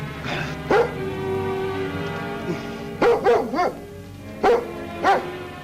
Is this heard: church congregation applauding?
no